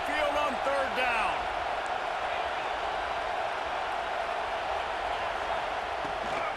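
Stadium crowd noise at Saban Field for an Alabama Crimson Tide third down in EA Sports College Football 26, a steady loud roaring crowd filling the clip, with a short whistle-like tone and commentary voices near the start.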